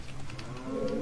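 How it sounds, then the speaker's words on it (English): Cattle lowing in The Legend of Zelda: Ocarina of Time Master Quest, a short game cow moo that swells toward the end and stands alone at moderate volume. "Now, you're gonna need to grab your slingshot in order to activate the cows"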